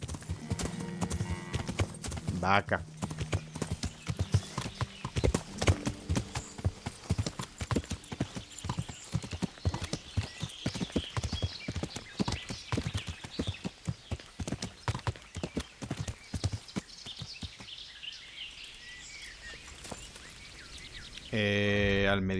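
A horse gallops in the medieval Kingdom Come Deliverance video game with rapid, rhythmic hoofbeats that run steadily for a long stretch and thin out near the end, and a brief word is spoken once.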